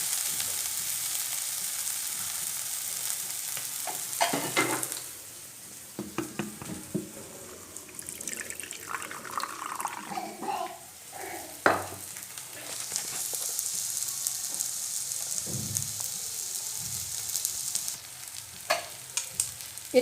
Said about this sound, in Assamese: এতিয়া অকণমান পানী দি পেলাই মছলাখিনি তেল ওলালৈকে ভাজিম।